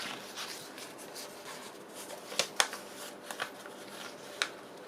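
A paper pocket journal page being folded by hand: soft, continuous papery rustling, with a few sharp crisp creases near the middle and again near the end, all close and fairly quiet.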